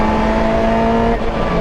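Lotus Elise Cup race car with a paddle-shift sequential gearbox pulling hard out of a corner in third gear at Donington Park, its engine a loud, steady close-up drone held at constant pitch with a brief dip near the end.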